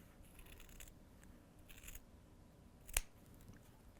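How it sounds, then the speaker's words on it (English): Scissors snip once through quilted fabric close to the stitching line, a single crisp cut standing out against a quiet room background. "now I'm just going to cut close to my stitching"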